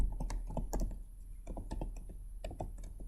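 Computer keyboard keys tapped in quick irregular bursts while entering a folder name, close and clear with brief pauses between clusters of keystrokes.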